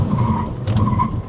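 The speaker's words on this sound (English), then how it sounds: "Foot on the brake, hard on the accelerator, build up some boost in the motor, I guess, and very gentle launch" Tires squealing on a Chery Tiggo 7 during a brake-boost launch at a Chinese motor show, a loud close screech with a steady engine drone underneath.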